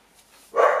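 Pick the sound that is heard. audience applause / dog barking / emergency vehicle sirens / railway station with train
dog barking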